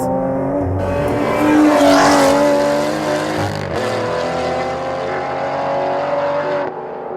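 An Aston Martin Vantage GT12 engine is heard from the driving seat, a loud, close, harmonic drone that swells under acceleration, drops briefly at a gear change, then holds a steady pitch.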